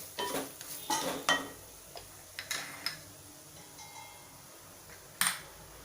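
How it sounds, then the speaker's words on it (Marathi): Eggplant pieces get stirred in a pan, with scattered metallic clinks and scrapes of a utensil against the cookware, close and irregular, one sharper knock near the end. "लगेच असे परतायचे म्हणजे काळे पडत नाही"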